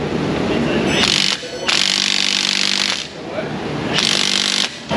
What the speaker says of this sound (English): The impact gun can't spin it.